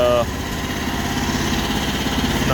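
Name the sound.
mini excavator engine idling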